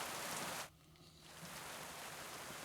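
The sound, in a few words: rain in video game Kingdom Come Deliverance 2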